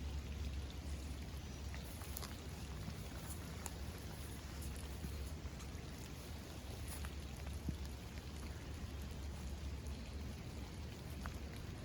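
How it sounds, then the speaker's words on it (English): Steady rain falling outdoors on a nature walk, a dense continuous hiss and patter with occasional louder drops, constant throughout and no voices. "The rain's picking up a little bit right now"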